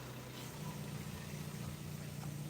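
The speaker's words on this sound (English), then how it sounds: "Little motor running there." A small motor runs steadily nearby outdoors in an urban setting, giving a constant low droning hum with faint background noise and no breaks.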